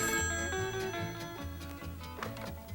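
A telephone rings in a short, bright pattern of repeated bell tones, moderately quiet and alone with no talking.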